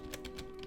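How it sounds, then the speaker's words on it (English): Keys clack on a computer keyboard as a server command is typed, four or five quick, sharp taps spaced evenly over a low steady hum, close and fairly quiet. "run our server by typing out"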